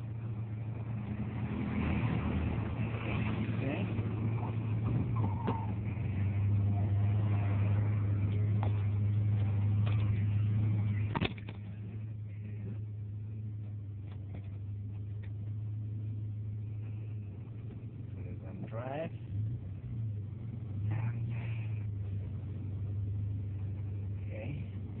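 Hydrogen-enhanced Honda Civic ESi car running with a steady low engine hum heard from inside, louder at first, then easing to a calmer drone with faint shifting rev changes.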